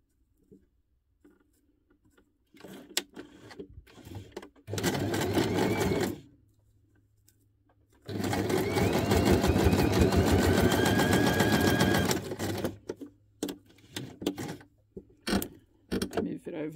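Sewing machine zigzag stitching tiny paper scraps: two long, loud runs of rapid mechanical whirring with shorter stop-start bursts around them, close by.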